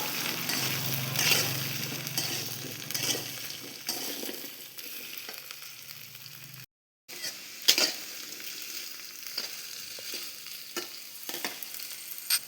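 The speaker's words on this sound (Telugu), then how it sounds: "ఇదే ఆయిల్లో మనం ముందుగా కట్ చేసి పెట్టుకున్న బెండకాయ ముక్కల్ని కూడా వేసి గ్యాస్ని సిమ్లో ఉంచి కలుపుతూ వేయించండి" Cut okra pieces fry in oil in a pan over a low gas flame, a steady soft sizzle broken by the clink and scrape of stirring, with one brief silent gap midway.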